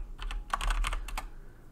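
Rapid keystrokes on a computer keyboard as a Fortnite lobby bot command is entered, a quick irregular burst of close, crisp taps over a low hum.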